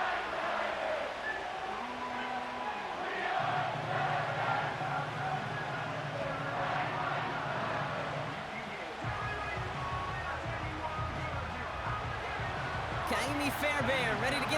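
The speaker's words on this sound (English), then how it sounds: "you can already hear this home crowd rallying in support of that upset" Home crowd at an NFL game in Nissan Stadium rumbles and roars steadily throughout, a broad, sustained stadium din with swelling cheers, heard beneath play-by-play commentary.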